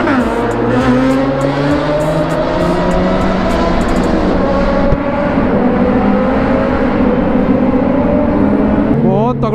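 Loud motorcycle engines, including a Kawasaki Z900, rev and roar together with rising and falling pitch, close and dense, filling the whole stretch.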